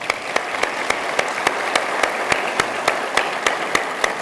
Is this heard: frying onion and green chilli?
no